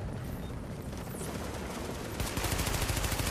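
Rapid gunfire in The Division video game PvP mode, dense continuous bursts of shots that grow louder and more rhythmic toward the end, with no speech.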